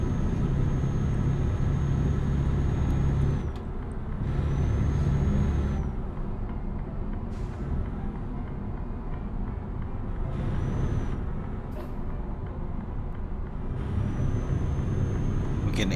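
Heavy truck engine rumble, a Mercedes-Benz New Actros 2019 in Euro Truck Simulator 2, easing off while slowing down, with brief hissy air-brake-like bursts over a steady low drone, no talking.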